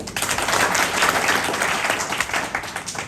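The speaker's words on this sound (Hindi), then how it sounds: "Very good, Tali बजाइए।" An audience claps together at a devotional gathering, a burst of brisk, fairly close applause lasting a few seconds.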